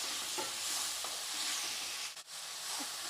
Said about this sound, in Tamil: தக்காளி நல்லா வதங்கி வந்துருச்சுங்க